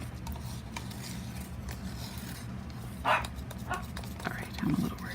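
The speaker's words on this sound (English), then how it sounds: "If my puppies would not bark." Small puppies barking indoors during an acrylic paint pour session, a couple of brief yaps rising over steady background noise, with a person talking nearby.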